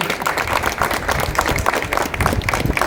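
Enthusiastic applause from an audience at a trailer launch event, cheering a dance by schoolgirls from a Marathi school in Nagaon. Dense, steady clapping fills the whole stretch, close and loud, with no pauses.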